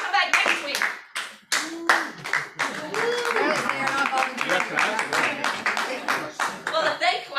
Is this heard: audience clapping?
yes